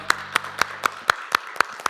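At an online New Year's Eve church service, about eight sharp, evenly spaced hand claps fall in a steady rhythm, close and distinct, over a faint low hum.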